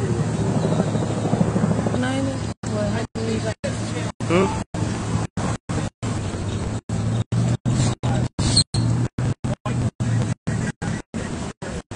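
A helicopter's steady, heavy rotor drone fills the scene at a deadly car crash, with people talking over it and the sound repeatedly cutting out.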